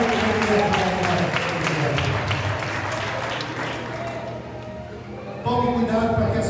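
Church congregation applauding, a broad wash of clapping from many people under a steady low tone, dipping slightly then rising again near the end.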